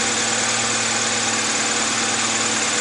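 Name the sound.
2001 Honda CR-V engine idling after misfire fix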